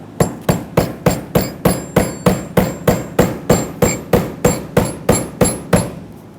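A hammer strikes a pry bar against the fuel pump lock ring of a 2000-2005 Ford Excursion, about eighteen sharp metallic blows in a steady, even rhythm, close and loud with no talking.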